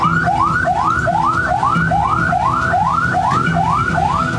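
An ambulance siren wails in a fast repeating yelp, rising sweeps cycling about twice per second, loud and close for the whole stretch over a low background rumble.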